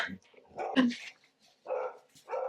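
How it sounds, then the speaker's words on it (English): A pet dog barks and yips in short bursts indoors during a home makeup session, with someone talking between the barks. "Never mind the dog."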